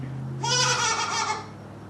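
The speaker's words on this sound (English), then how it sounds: "Good goat not jumping up." A goat gives one loud, wavering bleat close by, lasting about a second, against quiet indoor background hum.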